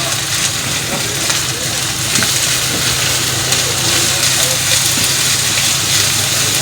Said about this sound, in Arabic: بعد كده ننزل بالفلفل اللي هو الفلفل الاخضر والفلفل الالوان